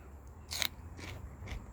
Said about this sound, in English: Pardon the crunching.